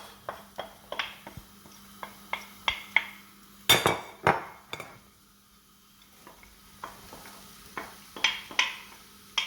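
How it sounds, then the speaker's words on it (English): Diced onions hit hot olive oil in a pan, bringing a run of sharp clinks and scrapes from utensil and pan over a faint background sizzle, with one louder clatter near the middle. "I'm going to go straight in with our diced onions."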